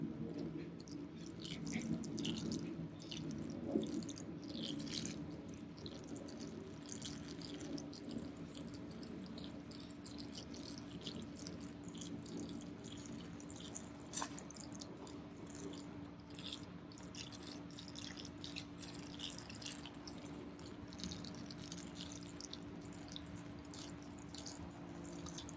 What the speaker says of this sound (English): Next step is we are going to water these so that they get nice and moist.